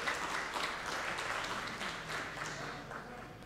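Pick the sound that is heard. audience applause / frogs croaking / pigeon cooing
audience applause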